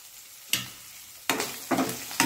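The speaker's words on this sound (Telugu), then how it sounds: "ఇది కొంచెం బ్రౌన్ కలర్ వచ్చినంత వరకు పెట్టుకోండి ఆనియన్స్ని" Onions frying in a pan for a vankaya and tomato curry, with bursts of sizzling as they are stirred: three or four separate rising hisses over quiet gaps, close and fairly loud, no talking.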